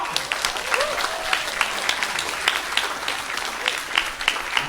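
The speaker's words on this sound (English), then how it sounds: "So can I please get your biggest round of applause and cheers?" A large audience at a hackathon opening day in Singapore claps in a steady, dense wash of applause with scattered cheers. The sound is continuous and fairly loud from start to finish.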